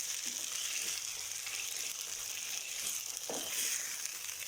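Steady, hissing sizzle of spices tempering in hot oil in a frying pan for sarson ka saag, close up and continuous, with a faint stir or clink partway through.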